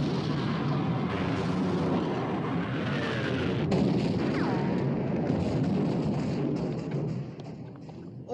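Heavy naval gunfire from a warship in a wartime sea battle film, rolling booms and rumbling blasts that merge into a continuous roar, a sharp crack midway, fading toward the end.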